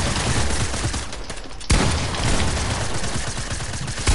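Dense video game gunfire rattles on without pause, loud and close, a rapid fusillade of shots with a sharp blast cutting through midway.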